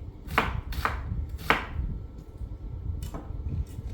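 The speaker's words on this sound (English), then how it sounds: "I've cut the onion up into some big pieces" A knife cuts an onion into large pieces on a board, four or five sharp, close chops at uneven intervals with quiet gaps between, no voices.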